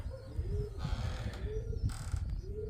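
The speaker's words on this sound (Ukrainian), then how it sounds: "Вони вгорі нікому не цікаві, ці голуби." Pigeons coo softly in repeated low, rolling calls over a steady background rumble, with a brief flutter of higher noise between coos.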